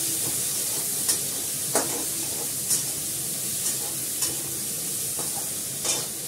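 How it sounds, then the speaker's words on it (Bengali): Spices with salt and turmeric sauté in a pan, giving a steady, close, hissing sizzle punctuated by a handful of brief scraping strokes from a spatula at irregular intervals, with no talking. "একটু নুন দেবো, ভালো করে এটা কষাবো"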